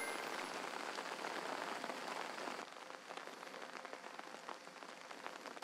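Steady rain falls on an outdoor golf course, a dense, even hiss of drops that softens slightly partway through and continues without any talk.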